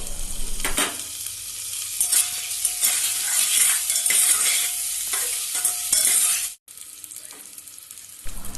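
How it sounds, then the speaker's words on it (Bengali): Green chili, grated ginger, grated garlic and tomato sizzle and get stirred in a pan, with a steady bright frying hiss, scraping strokes throughout, a brief drop near the end, then frying resumes. "দিয়ে দিচ্ছি কাঁচা লঙ্কা কুচি গ্রেট করা আদা গ্রেট করা রসুন একটা টমেটো দিয়ে দিলাম"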